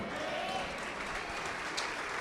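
A church congregation applauds together in a dense, steady patter of claps, moderately distant and even throughout, with no voices standing out.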